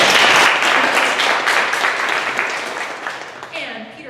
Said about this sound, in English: A round of applause for Nina.